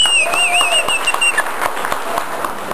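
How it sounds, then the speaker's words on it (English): An audience at an art benefit event claps in a dense burst of applause that gradually thins, with a faint feedback-like whistle ringing over the start. "So I hope you'll join me in a round of applause for them."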